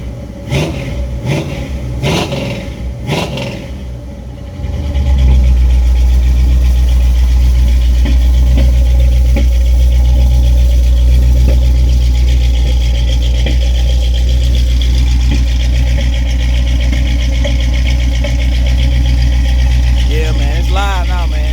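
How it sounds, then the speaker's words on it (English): A carbureted 1983 Chevrolet C10 pickup truck engine idles with a deep, loud rumble, after a few short revving bursts at the start. "Give y'all a few revs on this thing, let y'all hear it."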